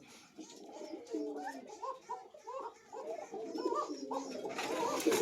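Black kokha pigeons at a breeding farm coo in a steady run of soft, low, rounded calls, several birds overlapping close by, with faint voice-like sounds mixed in.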